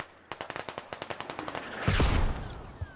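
Rapid bursts of automatic gunfire in the tactical shooter Squad, about a dozen evenly spaced shots cracking close by, then a heavier blast with a rumbling tail and one last isolated shot.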